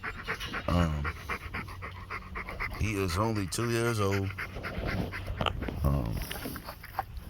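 A two-year-old male stud dog pants in quick, rhythmic breaths close by, mostly under someone talking about him.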